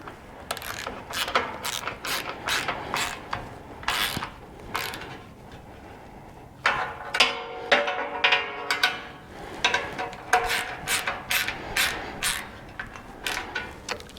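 Ratchet wrench tightening bolts on a Toyota 4Runner upTOP Overland roof rack load bar, rapid clicking pawl bursts in repeated close strokes with short pauses between.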